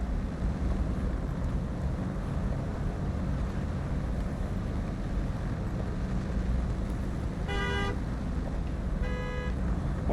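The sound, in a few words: Hummer H2 horn honking in the video game SnowRunner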